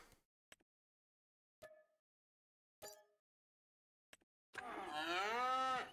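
Dairy cows in Farming Simulator 25: a few brief soft clicks, then one long, loud, close moo that swells and holds to the end.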